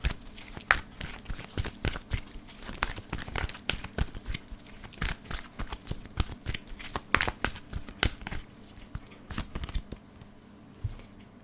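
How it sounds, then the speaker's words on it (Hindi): Tarot cards are shuffled and drawn from the deck in a quick run of crisp flicks and papery rustles, close and fairly soft, continuing for several seconds with no talking. "सबसे पहले तो आपकी एनर्जीज के 3 कार्ड्स ले रही हूँ मैं"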